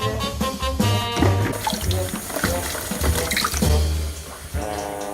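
Cold tap water runs steadily from a faucet into a container for cake batter, a continuous close splashing flow mixed with other busy background sound.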